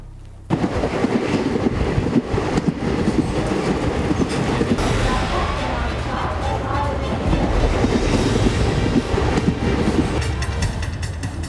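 A train heard as a continuous loud rumble that starts abruptly and carries on steadily with a faint rhythmic clatter beneath, filling the whole scene without any talking.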